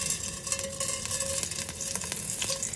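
Pork chops, cut into smaller pieces, frying in hot oil in a pan: a steady, close crackling sizzle with scattered pops and spatters, continuing with no talk over it.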